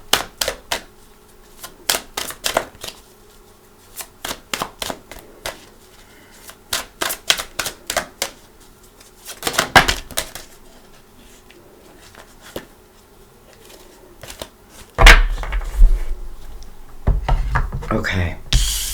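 Tarot card deck being shuffled by hand, a series of quick crisp riffling bursts in an irregular rhythm, close and fairly faint, with a louder rustle near the end.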